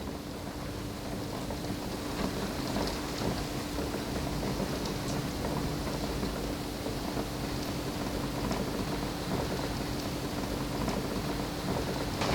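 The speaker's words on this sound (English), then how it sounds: "It's rain." Steady rainfall: a dense, continuous hiss of many drops at an even level throughout, with a faint low hum underneath and no talk.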